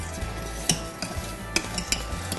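A utensil stirs thick biscuit gravy boiling in a pan, with steady scraping strokes and occasional clinks against the metal over a continuous bubbling sizzle, close and fairly loud.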